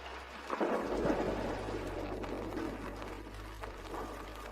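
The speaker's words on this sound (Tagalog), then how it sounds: "bumubuhos na ang ulan dito" Heavy rain pours steadily with a deep rumble of thunder rolling underneath, a full, close wash of falling water with a sharper burst early on.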